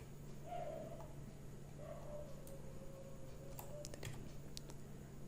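A few faint, sharp clicks of the delete key on a computer keyboard during a Notepad session, spaced irregularly over a quiet room hum and a low steady drone.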